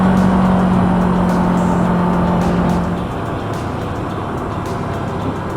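A car cruising along a country road near Queen Mary Falls, giving a loud, steady tyre and engine drone that eases slightly partway through, with no voices.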